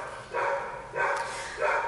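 A dog barks outside in three loud, evenly spaced barks over a short span, with no talking.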